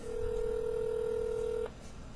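A call is dialed on an iPhone: one steady, fairly loud keypad tone holds for about a second and a half and then stops, leaving quiet background noise.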